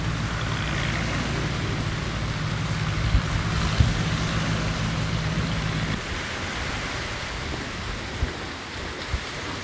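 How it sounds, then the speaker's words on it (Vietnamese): A fishing boat heads out to sea through stormy waves near a mountain-sheltered bay, with a steady low engine drone mixed into continuous roaring wind and surf noise. "Có một chiếc tàu cá ra biển nha các bạn."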